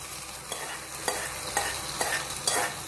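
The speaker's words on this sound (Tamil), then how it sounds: "இப்போ இந்த சட்னியில் நான் இந்த தாளித்ததை ஆட் பண்ணிடுறேன்." Hot sesame oil tempering is poured into peanut chutney and stirred, giving a soft sizzle with regular scraping stir strokes about every half second, close by and without talk.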